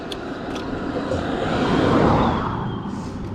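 A truck on a rural road rumbles past, the broad noise swelling to a peak midway and then easing off, with no one talking.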